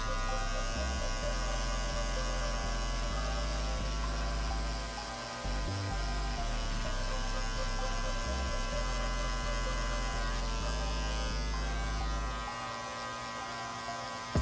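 Electric hair clippers buzz steadily while cutting a zero-guard skin fade, a loud continuous close-up drone with brief dips in pitch and level as the blade moves through hair, no voices.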